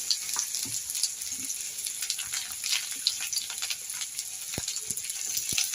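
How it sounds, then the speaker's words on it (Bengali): Onions frying in hot oil in a home kitchen, a steady close crackling sizzle with scattered pops and a few light utensil clicks throughout. "আমার তেলটা গরম হয়ে গেছে, এবার আমি দিয়ে দেবো পেঁয়াজগুলো।"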